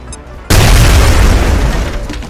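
A grenade detonates in the X-Com: Enemy Within strategy game, a sudden loud, close boom after a brief quiet moment, then a dense rumbling roar that holds steady and slowly fades.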